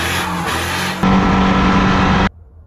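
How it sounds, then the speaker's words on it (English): Truck engine revving hard through a very loud aftermarket exhaust with a muffler and exhaust leaks, a steady close roar that jumps louder midway, holds, then cuts off abruptly into quiet. "And that muffler is stupid loud."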